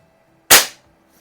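Sheridan Blue Streak .20 caliber air rifle firing a single sharp, loud crack that decays quickly, isolated against near silence.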